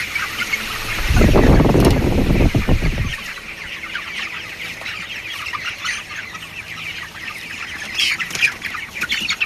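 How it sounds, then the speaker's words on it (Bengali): Chickens crowd a farm shed and cluck steadily. A loud, rough burst of flapping and squawking comes early on, then settles into continuous overlapping clucks. "পুরো ঘর ভরে গিয়েছে মুরগি দিয়ে"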